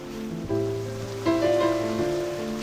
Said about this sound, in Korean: 시원한 파도 소리와 바다 내음